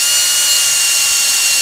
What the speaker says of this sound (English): just drill some little pilots down into our board